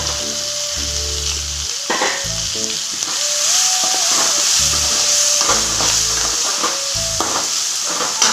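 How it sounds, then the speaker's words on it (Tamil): Onions, green chilli and curry leaves sauté in a hot pan, giving a steady loud sizzle and hiss with intermittent stirring scrapes and clatter, no voices over it. "இப்போ வெங்காயம்லாம் நல்லா சேர்த்து வதக்கலாங்க."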